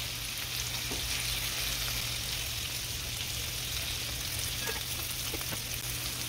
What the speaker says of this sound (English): Put a little bit more oil down right here because we are going to be sauteing our vegetables.